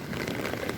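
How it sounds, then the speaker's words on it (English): Steady rain falls into an outdoor puddle, a dense, even hiss of droplets and patter filling the moment without pause. "Raining, raining, raining. So much raining."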